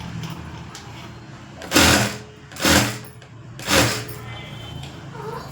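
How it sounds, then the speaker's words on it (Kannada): A sewing machine stitching a blouse runs in three short, loud bursts about a second apart, with quieter handling sounds in the pauses between them. "ನೀಟ್ ಫಿನಿಶಿಂಗ್ ಬರಬೇಕು ಅಂತಂದರೆ ನಾವು ಹಿಂಗೆ ಸ್ಟಿಚ್ ಮಾಡಬೇಕು"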